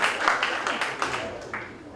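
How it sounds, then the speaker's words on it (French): Applause from an audience at an evening event thanking a sponsor, a moderately quiet, steady patter of claps with some louder individual hits, mingled with faint voices. "Vous pouvez l'applaudir bien fort."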